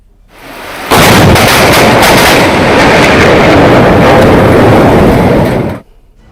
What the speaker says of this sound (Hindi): वहां धमाकेदार आवाज के साथ अचानक बिजली गिरी